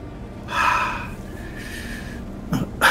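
A tabletop role-play player takes a deep gasping breath, a sharp airy intake followed by a softer exhale, then two quick snorting breaths at the end, close and alone.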